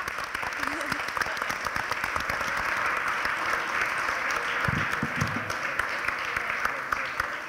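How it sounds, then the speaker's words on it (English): A school board meeting audience applauding a 2018 state championship team, a sustained, fairly even round of many hands clapping at moderate distance, with a few voices murmuring beneath it. "Go ahead and clap for them."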